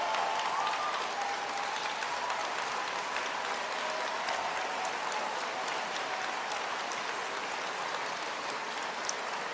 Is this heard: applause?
yes